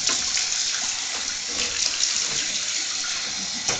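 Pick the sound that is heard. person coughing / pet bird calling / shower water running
shower water running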